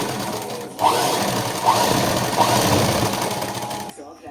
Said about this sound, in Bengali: 2 নম্বর করে স্টিচ দিয়ে দিচ্ছি।